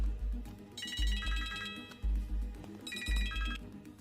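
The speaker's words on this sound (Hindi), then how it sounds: "कोशिश नहीं, अभी फोन करो राइट नाउ।" An electronic telephone ringtone repeats in two-tone trills over a steady rhythmic background beat, moderately loud with no voices.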